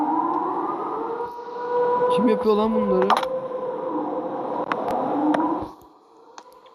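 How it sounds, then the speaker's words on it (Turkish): A wailing siren in a horror video game rises and falls steadily through the scene while someone talks over it, with scattered clicks and thumps from the game. "Bak siren sesleri geliyor."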